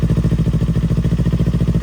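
A 2018 Kawasaki Ninja 400 motorcycle with 14,000 km idles close up, a loud, even, rapid pulsing thrum with no revving and no voices.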